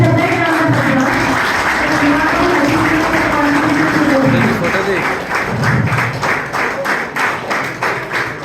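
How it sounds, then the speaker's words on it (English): An audience at a college startup talk applauds as the chief guest is welcomed to the dais, sustained clapping with a voice speaking over it early on and sharper individual claps toward the end. "a big round of applause"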